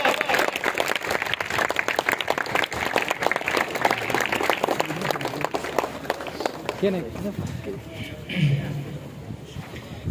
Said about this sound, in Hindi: पुरजोर तालियों के साथ स्टूडेंट को दावत है कि स्टूडेंट खड़े होकर इस्तकबाल कीजिए